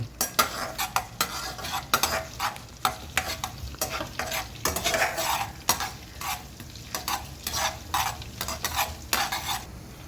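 Masala fries in a pan for a paneer dish, stirred briskly so that rhythmic metal scrapes and clinks of a spoon ride over a steady sizzle, close up and without talk.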